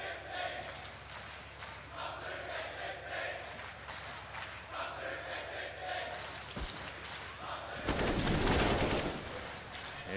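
Bursts of rifle fire crackle during a professional CS:GO match on the Inferno map, layered under continuous commentary with crowd noise swelling near the end.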